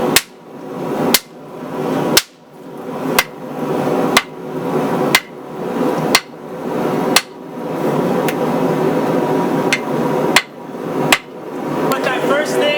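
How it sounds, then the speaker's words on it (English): A hammer taps a hot Damascus steel billet during forging, about a dozen sharp metallic strikes in a steady rhythm, each ringing briefly before the next, close and loud. "I took the hammer and I didn't hit real hard. I just tapped it."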